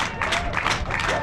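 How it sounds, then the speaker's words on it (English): A crowd claps and cheers for the Malaysia women's cricket team, runners-up at the ACC Women's T20 Championship, in a short, loud, dense burst with a few voices mixed into the noise. "Let's get a round of applause for Malaysia."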